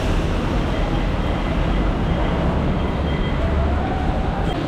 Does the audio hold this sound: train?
yes